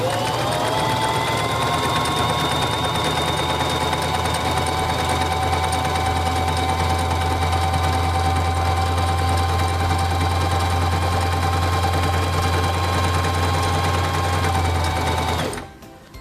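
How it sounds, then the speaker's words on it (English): Sewing machine stitching a honeycomb stitch through fabric, a steady loud mechanical whir with fast needle rhythm running continuously for about fifteen seconds, then stopping abruptly. "To sew the honeycomb stitch, place the fabric under the presser foot, lower the presser foot,"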